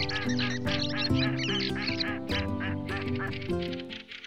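Ducks quacking loudly and continuously, a busy chorus of overlapping nasal calls close by.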